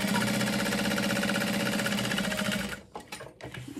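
Sewing machine basting the open sides of a handbag, running in a fast, steady mechanical whir up close for nearly three seconds before slowing and stopping with a few clicks.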